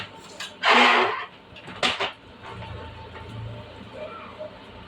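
A child's toy pan and spoon clatter as they are put away, two brief bursts of light clinking close by, with a voice talking around them.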